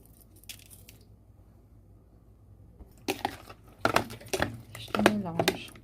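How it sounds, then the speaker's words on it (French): Ingredients for a noodle soup with shrimp ravioli being mixed in a bowl, with soft squishing, scraping and clinking of a utensil that grows busier and louder after a quiet start. "Je mélange."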